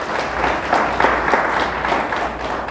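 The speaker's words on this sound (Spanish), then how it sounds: "Le damos un fuerte aplauso a Dios." A church congregation applauds during a Spanish-language service, with a dense, sustained patter of many hands clapping at moderate distance.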